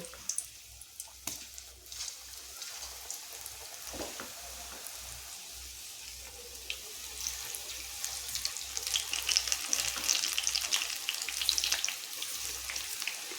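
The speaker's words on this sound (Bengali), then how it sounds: "এবার তেলও গরম হয়ে গেছে এবার সবগুলো এখানে এইভাবে ছেড়ে দেব" Mixed vegetable pakoras dropped into hot oil, a soft bubbling sizzle that starts quietly and grows louder and more crackly toward the end, close by.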